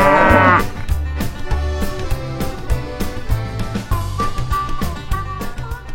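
Cattle moo from a toy train's cattle car, a series of loud, close lowing calls in a rhythmic pattern over about six seconds, with a brief high tone at the start.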